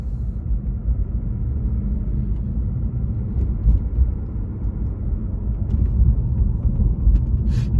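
Cabin of a Lexus IS 250 F Sport driving on the road: a steady low rumble of road and engine noise, fairly quiet and even, with faint bumps and a brief sharp tick near the end.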